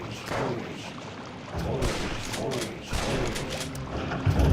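Dense, continuous gunfire from the Sam & Max video game, a rapid barrage of overlapping shots and booms that stays loud and close throughout the clip.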